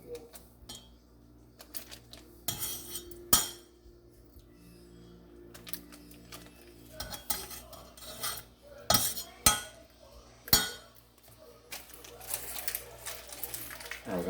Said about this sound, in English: Now take our cream cheese. I'm gonna cut it up in little pieces.